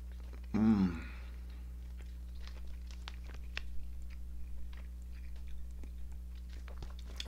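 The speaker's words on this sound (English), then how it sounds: "you've got a lot to chew because it's pretty thick" Someone chews a thick piece of Daddy Cool's smokey chipotle biltong close to the mic, a soft irregular stream of wet crunches and clicks following a brief louder burst near the start.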